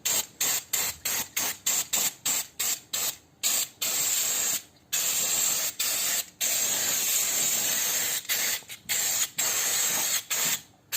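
Brake cleaner sprayed onto parts of an abandoned Mini Cooper under restoration, a quick string of short hissing bursts followed by longer sustained sprays and a few more spurts, close and loud, with no voices.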